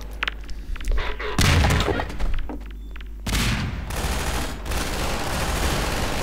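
Grenades explode in Half-Life 2 as heavy, close booms and thuds, two big blasts rising out of scattered gunfire and rumbling debris.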